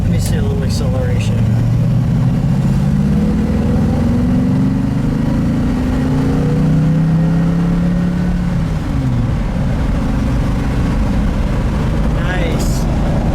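The engine of a 1967 Chevrolet Camaro RS SS 350 with a four-speed revs up loud and close, its deep drone rising in pitch through the gears and then settling back down, with a voice talking over it.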